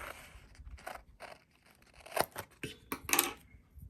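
Scissors cutting paper for an art journal page with a waterfall Dutch door: a few scattered snips and crisp paper rustles up close, with quiet gaps between the cuts.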